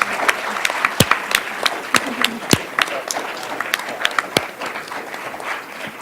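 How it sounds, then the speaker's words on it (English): Audience applause for a panel at a conservation association's 50th anniversary celebration: a steady wash of many hands clapping, with sharper individual claps standing out near the front, tapering slightly toward the end. "Let's give a round of applause for this wonderful panel."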